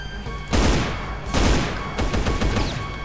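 Bursts of rapid enemy gunfire in the video game Brutal Doom, two loud volleys followed by a sustained rattling stream of shots, dense and close.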